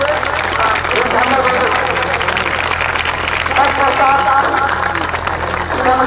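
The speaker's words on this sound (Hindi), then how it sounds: "जोरदार ताली स्वागत करेंगे आप लोग।" Crowd applauding at an outdoor flag hoisting ceremony during a festival, steady continuous clapping with crowd murmur beneath, moderately loud throughout.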